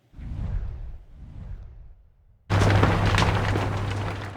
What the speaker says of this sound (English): I'm trained to hear flapping plastic